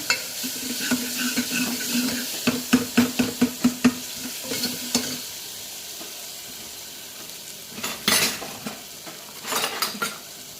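Tomatoes fry in a pan for dal rasam while a spoon stirs them in a quick run of rhythmic scraping strokes over a steady sizzle, then a few sparser scrapes and clinks follow, close and clear.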